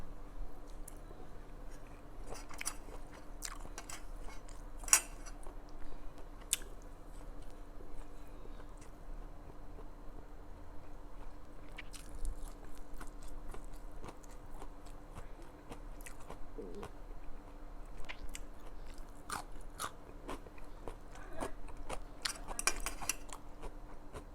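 Chewy, sticky fried chicken skin being chewed close up, with soft repeated bites and squishy mastication sounds, plus occasional light clicks of cutlery or dishes, quiet and continuous.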